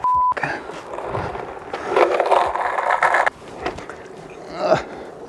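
DIY longboard made from pallet wood rolling and scraping along the ground, a rough rumbling ride that swells and then cuts off, followed by lighter scuffs and a short beep at the start.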